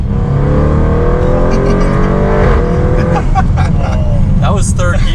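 A 700 WHP Audi RS7 accelerating hard, a loud close engine roar rising in pitch through the gear, with excited voices speaking over the noise toward the end.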